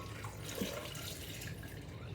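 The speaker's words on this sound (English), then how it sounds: "we're going to pour some water." Water pours and splashes steadily into a blender for pineapple juice, a continuous wash of liquid sound at moderate loudness with no one speaking.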